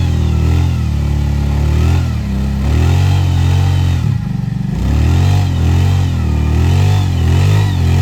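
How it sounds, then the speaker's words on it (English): A winch pulls a buried vehicle out on a farm field while an engine revs hard and steadily close by, its pitch rising and falling, with a brief dip midway and no talk. "let's see if the winch can get him out"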